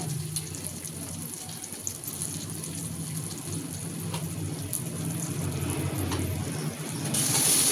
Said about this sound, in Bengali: অল্প জল দিয়ে কষাই নিব বন্ধুরা